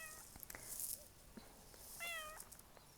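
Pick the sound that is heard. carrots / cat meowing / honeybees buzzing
cat meowing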